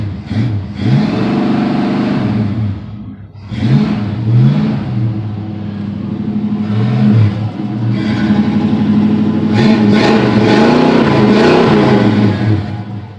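A 1966 Ford Mustang Fastback engine running close by, idling unevenly with several throttle blips and revs rising and falling, loud and continuous with no talking.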